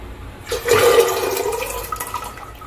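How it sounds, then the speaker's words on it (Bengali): A pressure cooker holding soaked kabuli chickpeas lets out a single loud, hissing whistle of steam that rises quickly, holds for about a second, then tapers into a fading hiss. "সেটাকে আমি প্রথমে প্রেসারে সিটি দিয়ে নিচ্ছি"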